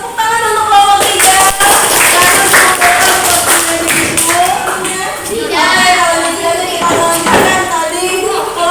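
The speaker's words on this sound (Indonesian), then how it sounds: "Tepuk tangan untuk kelompok 3." Schoolchildren in an elementary classroom clap together for a group of classmates, a loud close burst of rapid, dense hand claps lasting several seconds with children's voices mixed in.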